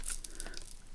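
Thin paper tears briefly while an envelope is being taken apart, a quick, faint, close rip with no voices.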